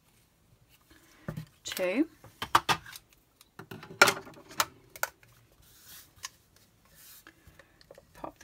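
Scissors snip edged ribbon for a handmade card in a few short, close, quiet cuts, scattered among rustling and handling noises while someone talks.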